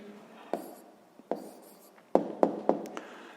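A pen writing a math answer on paper for a sixth-grade exercise, quiet and close, with scattered scratchy strokes and small taps in an uneven rhythm.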